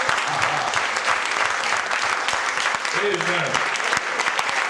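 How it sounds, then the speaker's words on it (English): A church congregation claps loudly and continuously in worship, a thick wash of many hands, while a voice calls out over it and sung notes rise briefly near the end. "You are not clapping for man, but you are clapping for God"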